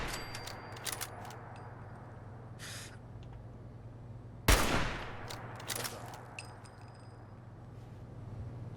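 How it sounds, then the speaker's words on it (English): Gunfire crackles in Fallout 4 Survival Mode: one sharp, loud shot rings out in the middle against a steady low hum, with a few fainter scattered pops and clinks before and after it. "Did someone just shoot at me?"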